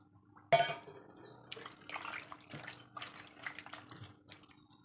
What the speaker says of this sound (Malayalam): ലേശം വെള്ളം ഒഴിച്ച് കൊടുക്കാം കുറേ വെള്ളം ഒഴിക്കണ്ട കേട്ടോ